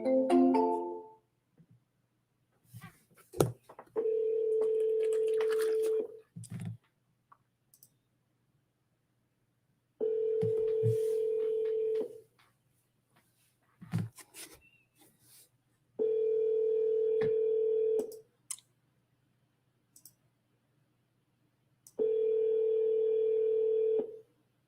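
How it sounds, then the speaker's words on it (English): An outgoing phone call rings unanswered, with four long steady ring tones evenly spaced by silences, preceded by a brief burst of dialing clicks and tones. "Let's call this person one more time and see if they pick up the phone."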